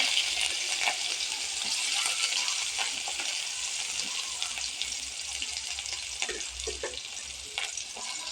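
Mustard seeds and chana dal splutter in hot oil as onion is added, a soft continuous sizzle with scattered light pops and stirring scrapes, fairly quiet and with no talk.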